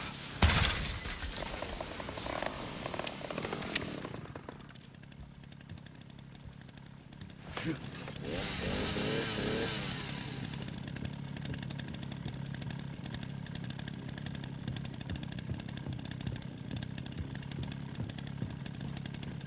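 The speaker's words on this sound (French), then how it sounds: "Bon, on va garder la tronçonneuse, hein." Chainsaw in the video game Resident Evil Requiem, a harsh buzzing engine roar that revs up and drops back to a rattling idle, running steadily under game sounds throughout.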